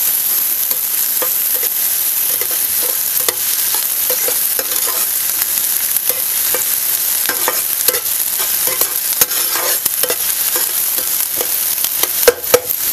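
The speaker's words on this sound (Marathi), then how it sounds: "तर आपण तेलामध्ये ना कांदा घालूया. आणि कांदा आहे ना चांगलंच आपल्याला परतून घ्यायचं लालसर होईपर्यंत" Onion frying in hot oil for an egg tawa masala, a steady, loud broadband sizzle that runs throughout, with scattered stirring scrapes and a couple of sharper clicks near the end, no voices.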